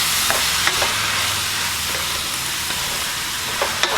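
Spices, finely chopped vegetables and parsley being stirred together in a hot frying pan for dirty rice, a steady close sizzle with a few soft scraping clicks from the spoon, no talking.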